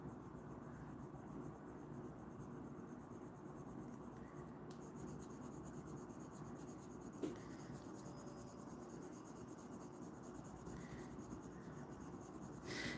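A colored pencil sketches on paper, giving soft, continuous scratchy rubbing strokes, faint and close, with a few light taps and no talk.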